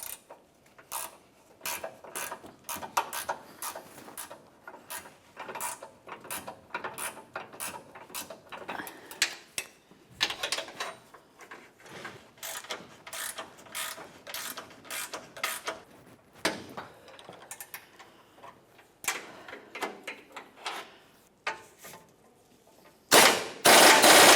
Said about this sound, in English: Now let's use our 17mm ratchet wrench to fully snug the forward bolt, and then we'll snug the rearward bolt.